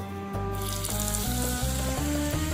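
Continuous crackling sizzle of tempeh frying in hot oil, steady throughout, with a gentle melody playing alongside.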